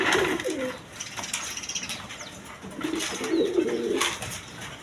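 Several pigeons coo in low, rounded bursts nearby, with occasional wing flutters and faint chirps around them.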